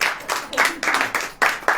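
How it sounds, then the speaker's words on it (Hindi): A church congregation clapping in rhythm at a Christian service, a series of sharp, evenly spaced bursts of many hands about every quarter second, moderately loud and close. "ताली बजाइए पहले।"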